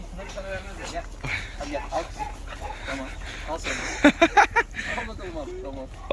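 Several dogs loosed in a hobby garden yip, whimper and bark, with a quick run of loud sharp barks near the end and a person talking over the commotion.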